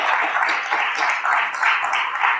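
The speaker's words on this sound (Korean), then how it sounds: "공청회 가치 선언을 선언해 주신 두 청년에게 다시 한번 큰 박수 부탁드리겠습니다." An audience at a founding assembly applauds two young speakers, giving dense, sustained clapping that stays steady and fairly loud throughout with no talk over it.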